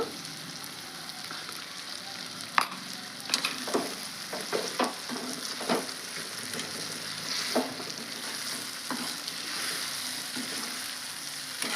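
Cauliflower egg curry being stirred in a pan, a steady sizzle of frying under repeated scraping clicks of a spoon against the pan, moderately close with no talking.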